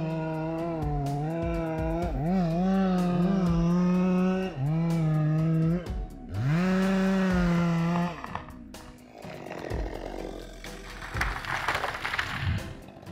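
A compact Mies 4 162 chainsaw with a powerful engine cuts down old oak trees, its loud, close engine rising and falling through several revs, then giving way to rougher, noisier cutting near the end.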